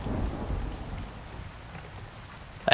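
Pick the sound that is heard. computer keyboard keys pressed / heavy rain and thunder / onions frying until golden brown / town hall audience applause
heavy rain and thunder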